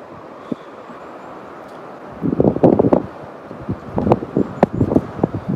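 Gusty outdoor wind near Burg Oberkapfenberg, Austria, buffeting the microphone in uneven bursts, rising and falling, with faint rustling underneath and no speech.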